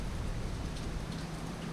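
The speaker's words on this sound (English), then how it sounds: "It is a brutally chilly, cold day, and it's raining. I don't know if you can hear it or not." Steady, soft rain falls near a country porch on a chilly, cold August day, making a continuous even hiss with no voices over it.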